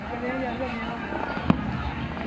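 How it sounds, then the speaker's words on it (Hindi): A firework bursts once with a sharp bang amid festive Makar Sankranti celebrations in Jaipur, rising briefly above steady crowd noise and voices talking throughout. "अब जो है आतिशबाजी का जो चरम है वो साफ तौर पर दिखाई दे रहा है।"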